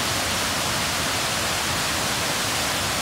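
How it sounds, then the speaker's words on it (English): A powerful multi-tiered waterfall thunders with heavy force along a creek, a steady, dense, close roar filling the whole stretch with no pauses or voices. "Well, this is a very powerful waterfall."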